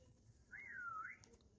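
A single clean whistle from a karaoke machine's built-in sound effects, rising and falling over about half a second, played fairly quietly over a low background hum.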